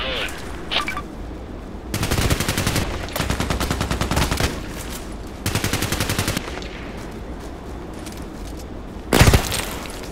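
Gunfire in the online shooter Contract Wars, with several long bursts of rapid automatic fire and one sharp, loud shot near the end, over a quiet background.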